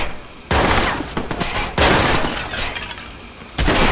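Bursts of gunfire and shattering glass in a Watch Dogs shootout, loud, close and chaotic, in several sharp volleys separated by brief lulls.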